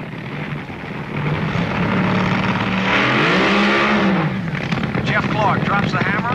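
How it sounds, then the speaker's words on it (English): A 1971 Colin Quinn AA Fuel Top Fuel dragster with driver Jeff Clark does a burnout, a loud sustained engine roar that swells and bends in pitch as the throttle is opened, with commentary over it. "Clark drops the hammer. Good strong burnout."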